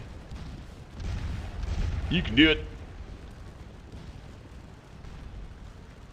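Cannons fire in the battle game Scourge of War, giving a few muffled, moderately distant booms with a short rumble. Someone talks over them briefly.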